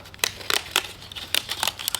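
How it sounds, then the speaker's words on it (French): Leatherman Arc multitool scissors snip through a double thickness of plastic in a series of sharp, crisp cuts, roughly eight quick snips spaced unevenly, close and clear with no talking. "Là, on a une double épaisseur de plastique."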